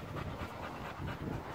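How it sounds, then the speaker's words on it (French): A dog pants steadily nearby outdoors, a continuous rhythmic breathy huffing that holds at an even, moderate level with no talk over it. "le chien, ça fait déjà 5 minutes qu'on l'entend"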